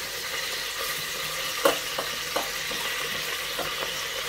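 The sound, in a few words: lamb sizzling in pan as artichokes are added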